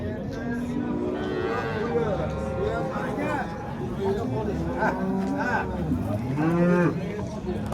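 At the Oltiariq cattle market, several cows moo in long, bending calls, one after another, while people talk and chatter close by throughout.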